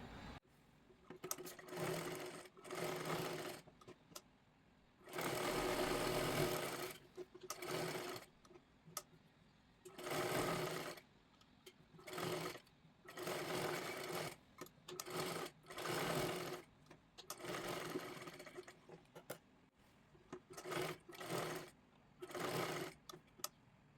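A sewing machine stitches a princess blouse in repeated bursts of running, each lasting a second or two and separated by short pauses, close and steady with no voices.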